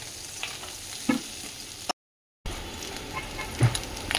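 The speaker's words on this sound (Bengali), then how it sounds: "এই আলু হাফ আলু নিয়েছি আর কাঁচা লঙ্কা একটা কুচি, এটা দিয়ে এই যে একটু ভেজে নিচ্ছি।" Chopped boiled potatoes with green chilli frying in a pan: soft crackling sizzle with occasional scraping stirs, a brief silent gap midway, and no talking.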